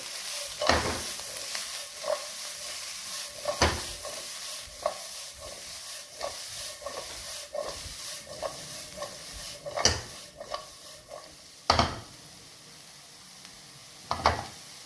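Fried rice being stirred in a hot pan, a spatula scraping and clanking against the metal in irregular strokes over a steady low sizzle, with a few sharper knocks standing out.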